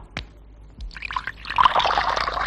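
Hot water pours steadily into a vessel, a bright trickling stream building in loudness over a couple of seconds after a few soft knocks at the start.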